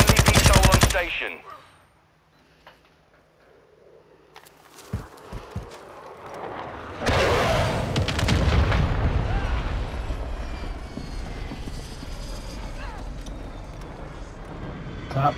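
Gunfire in a shooter video game: a loud opening burst, then a quiet stretch with a few sharp isolated shots, followed by sustained heavy firing and battle noise, with a voice talking over parts of it.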